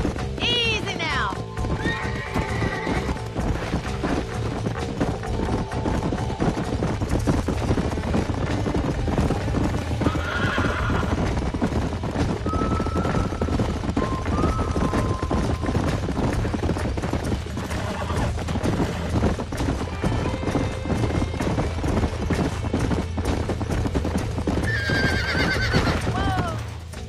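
Horses neigh and whinny repeatedly over steady clip-clopping hooves in the Western video game Red Dead Redemption, with background music and game sounds running throughout and a brief burst of gunfire.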